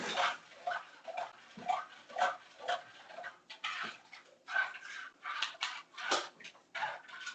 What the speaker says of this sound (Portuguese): Segura o cão aí.